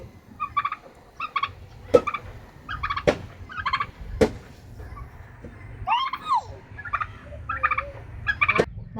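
Poultry cluck and chirp in short repeated bursts, with a few sharp knocks and faint background noise between calls.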